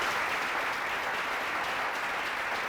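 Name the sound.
audience applause for a woman on TV show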